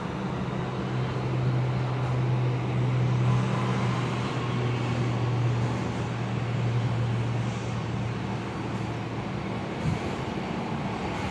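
Airlink 730 accelerates down the runway at Perth on its takeoff roll, a steady distant roar with a sustained low engine hum building throughout, heard alone without talk.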